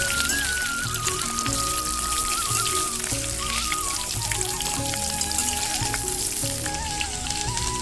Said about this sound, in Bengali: পটলগুলো আমি লাল করে ভেজে নেবো বন্ধুরা